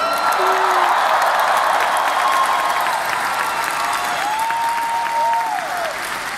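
Concert crowd applauding in a large arena, a sustained, loud wash of clapping with scattered whistles and cheers throughout.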